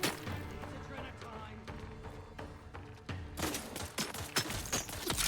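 Bursts of gunfire ring out in the video game Outer Worlds 2 during a fight with bandits, rapid shots cracking in clusters with thuds in between and brief speech mixed in.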